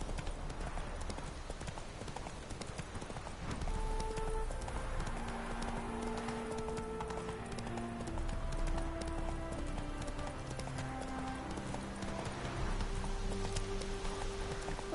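Galloping hoofbeats from a horse in the video game The Witcher 3: Hearts of Stone, a fast, steady clip-clop rhythm throughout under soft sustained game music.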